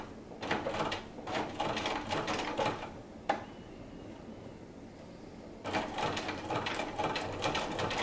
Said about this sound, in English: I'm just going to sew with a zigzag right here at the beginning.